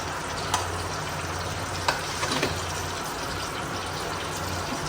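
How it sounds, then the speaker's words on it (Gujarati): Whole spices, bay leaves among them, hiss and sizzle in hot ghee for dal pulao, a steady close crackling fry with a few small pops and no talk. "હવે બધા મસાલા જે હતા તેજપત્તાને એ આપણે એમાં ઘી ગરમ થઈ ગયું છે એમાં નાખી દઈશું"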